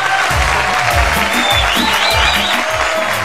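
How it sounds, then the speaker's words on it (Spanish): Studio audience gives loud, dense applause to welcome a DJ guest on a music talk show, sustained throughout, with thumping music beats running underneath. "quiero que recibamos con un muy, pero muy fuerte aplauso a Cristian DJ"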